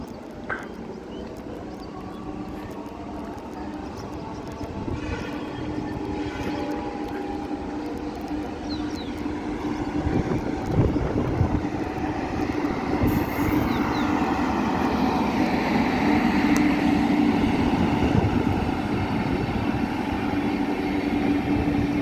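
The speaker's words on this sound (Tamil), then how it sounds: "ஒரு எக்ஸ்பிரஸ் போகுது பாருங்கள்" An express train passes along track 1 at Kilambakkam railway station, a steady low rumble that builds and swells from about ten seconds on, with a sustained hum and rail noise holding to the end.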